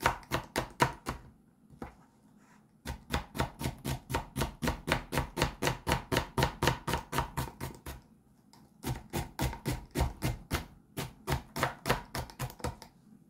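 Jute leaves chopped with a knife on a board, a fast steady run of sharp close knocks in three bursts separated by short pauses, with no talking.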